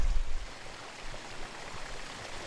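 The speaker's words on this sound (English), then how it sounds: "Dripping out of the fumarole pool, and it's just bubbling away like a pot of piping hot stew on the stove." Hot spring fumarole pool on São Miguel bubbling and dripping, a steady hissing wash of water noise at close range with a slightly louder gurgling burst at the start and no voices.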